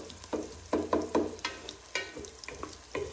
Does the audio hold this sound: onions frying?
yes